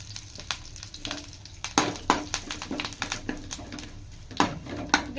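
Mustard seeds and other tempering spices crackling in hot oil with curry leaves and asafoetida, close and sizzling, with sharp popping bursts and stirring scrapes over a steady fry.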